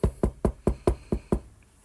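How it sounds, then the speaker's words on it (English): Seven sharp knocks on wood, evenly spaced about a quarter second apart, close and distinct, with no voices. "Hopefully I can do a knock on wood."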